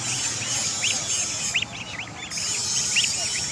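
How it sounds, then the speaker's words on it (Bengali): Young goose goslings on a farm in southern Bengal give a run of thin, high peeping calls, repeated in quick bursts over a low steady background hum. "আপনারা দেখতে পাচ্ছেন জিরো রাজহাঁসের বাচ্চা"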